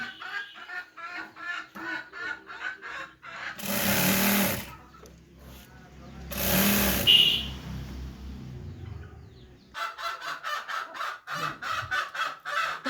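A sewing machine stitches elastic into trousers in rapid, rhythmic bursts at the start and end, with two louder, rougher noisy stretches in between.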